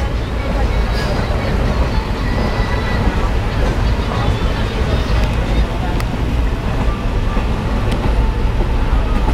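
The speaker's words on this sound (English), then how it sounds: "I'm on the train from Coimbatore to Kochi" Steady loud rumble and rattle inside a moving train carriage travelling from Coimbatore to Kochi, India, with wind rush and faint scattered voices in the background.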